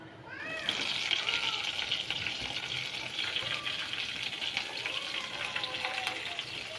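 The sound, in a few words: green chillies added to hot oil tempering, sizzling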